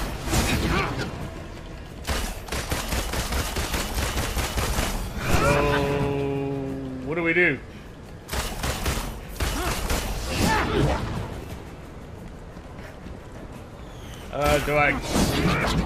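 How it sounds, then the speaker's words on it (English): Gunfire from a player shooting at an enemy in the Marvel's Avengers beta: loud, broadband bursts and booms that repeat across the stretch, mixed with game effects while someone talks over the action. "Do I just keep firing till he does something?"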